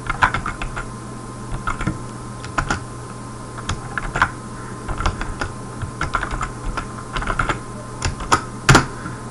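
Steady typing on a computer keyboard during a C programming session, irregular bursts of close, crisp key clicks with brief pauses, heard alone without talk over a faint constant hum.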